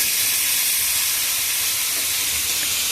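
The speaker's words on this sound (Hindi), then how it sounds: "खेकसी को डालने के बाद इसको अच्छे से मिक्स कर देंगे और थोड़ी देर भूनने देंगे।" Spiny gourd (kheksi) pieces frying in an open, uncovered pan, giving a dense, continuous steamy hiss at even loudness from start to finish, close by with no talk.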